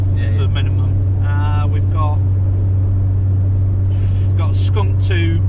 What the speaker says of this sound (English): We've got a 3-inch Decat pipe, 3-inch TDI North exhaust. That's why it's a little bit noisy in here.